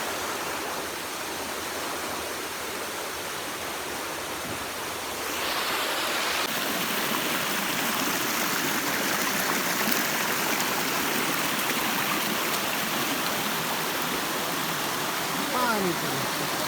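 Steady rushing water fills the scene, a continuous broadband roar like a waterfall or fast stream, growing slightly louder partway through.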